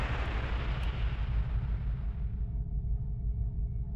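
A torpedo fired from tube 8 in a submarine combat game: a deep, heavy whoosh and rumble that fills the first two seconds, then cuts away, leaving a faint low hum.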